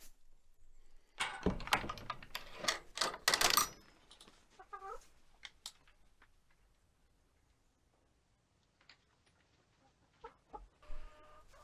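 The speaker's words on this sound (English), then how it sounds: "the rooster, he's just making noise too, but they are very loud chickens" Loud hens clucking in a burst of squawks, with a rooster's crow partway through, then scattered quieter clucks and calls.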